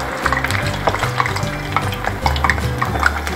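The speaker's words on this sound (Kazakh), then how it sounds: "Енді картоптарымызды аз-аздан салып пісіріп аламыз." Potatoes for a homemade doner fry in hot oil in a pan with a steady, close sizzle, along with some bubbling and light stirring clatter, and no voices.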